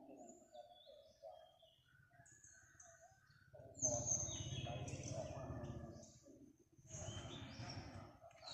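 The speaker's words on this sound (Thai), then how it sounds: "มีแต่นกมีแต่หนูเสียงฮ้องจอกแจก" Small birds chirp and call faintly in quiet surroundings, with soft cooing notes and a louder burst of rustling activity midway.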